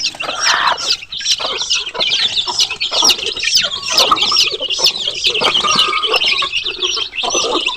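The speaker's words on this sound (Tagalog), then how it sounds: "Ito yung inahin nilang isang inahin" A mother hen and other chickens cluck continuously and loudly at close range, with rapid, overlapping calls forming a busy, unbroken chorus.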